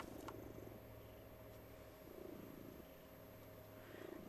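A black cat purrs in the video game Reka, a soft steady rumbling purr that swells and fades in slow cycles beneath a constant electronic hum and background hiss, faint and continuous with no talking.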